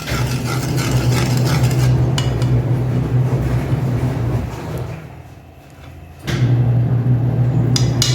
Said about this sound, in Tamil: மைதா போட்டு நல்லா கிண்டிக்கிட்டே இருக்கணும்